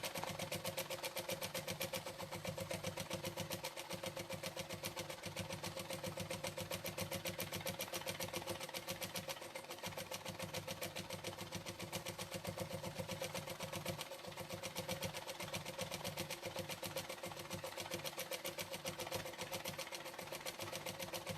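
Steady, continuous machine whir of a sewing machine doing free-motion quilting on silk, running evenly and unbroken throughout at a moderate, close level with no talk.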